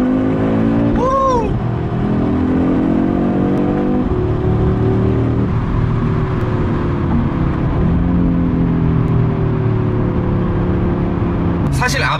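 An Audi RS3 with a 400-horsepower five-cylinder engine revs hard through a tunnel, its loud, sustained exhaust drone rising and holding with a sharp blip near the start and another at the end, while a man's exclamations sit over it.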